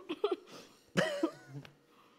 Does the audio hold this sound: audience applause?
no